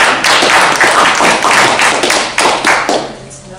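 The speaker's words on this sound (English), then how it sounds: "Can we have a round of applause for this?" Brief burst of hand clapping from a small group at a neighborhood association general meeting, dense and close for a few seconds, then thinning out and fading near the end.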